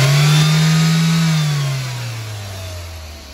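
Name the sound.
engine revving during gas line repair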